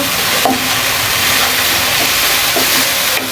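Masala and taro leaves sizzle and hiss steadily in a hot pan while being stirred and fried, a close, continuous crackling frying sound with a couple of faint utensil knocks.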